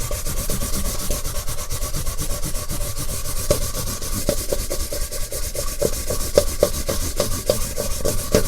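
Sandpaper rubbed back and forth over the frets of a 1970s Crestwood 2064 guitar, a steady close scratchy sanding with a fast rhythmic texture and no talking.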